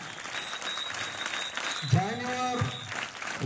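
Schoolchildren clap for their parents at a Children's Day celebration in a school hall, a fairly faint, steady patter of applause with a voice speaking briefly in the middle.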